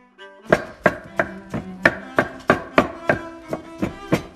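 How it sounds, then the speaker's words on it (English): A knife chops vegetables into chunks on a cutting board about a dozen times in an even, unhurried rhythm, each chop crisp and close. "I'm just chopping these up nice and easy,"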